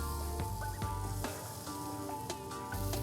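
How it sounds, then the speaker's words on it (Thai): Steady sizzling hiss of meat grilling over a charcoal stove, with a few sharp pops and crackles scattered throughout, close and moderately loud. "หลังจากนั้นจะย่างต่อด้วยเตาถ่าน"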